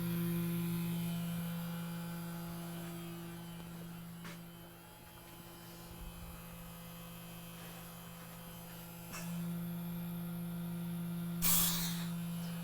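Festool vacuum clamp pump running very quietly, a faint steady hum with low hiss, a soft click near the end.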